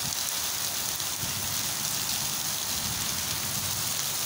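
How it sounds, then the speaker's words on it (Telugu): Heavy village rain drums down without pause, a thick broadband wash of drops on the ground and roofs, constant and close. "వర్షం చూడండి"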